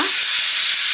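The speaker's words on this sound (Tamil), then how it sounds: "ஸோ வெங்காயம் நல்லா வதங்கினதுக்கப்புறமா குடமிளகாவை போட்டாச்சு." Onion and capsicum sauté in a hot pan, giving a loud, steady hiss and sizzle that fills the brief moment without any talk.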